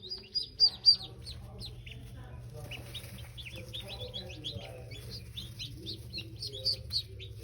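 A broody hen with her newly hatched chicks: bright, rapid peeping from the chicks with a few sharper close calls at the start, and low clucking from the hen underneath, all fairly near.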